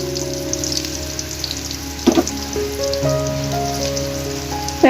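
Chopped onion and crushed garlic fry in white oil in a wok, a steady close sizzle with a brief louder burst partway through and a faint tonal hum alongside.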